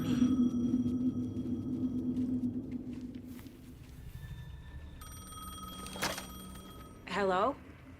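A payphone ringing in the video game Alan Wake 2, its bell-like electronic ring coming in spaced bursts over low ambient rumble and game sounds, with a sharp rising electronic chirp near the end.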